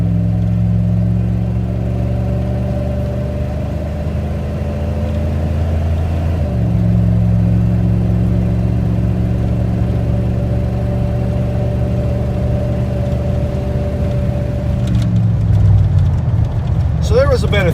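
A 1995 Dodge Ram pickup with a 5.9L V8 pulls at a little over half throttle on an icy highway. It makes a steady, loud droning engine hum with layered harmonics and a brief shift in pitch partway through.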